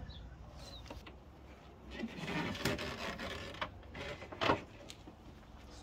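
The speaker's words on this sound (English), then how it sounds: "I'll flip the whole basin over so you can see." Handling noises as a plastic foldaway basin for a Thetford C400/402 toilet is flipped over: scraping, rubbing and creaking knocks, with a louder clatter in the middle and a sharp bump near the end.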